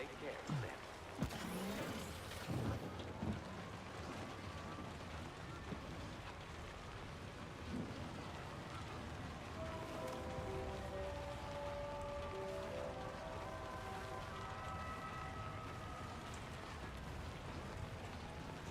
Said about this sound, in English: It will feel good to get out of this rain.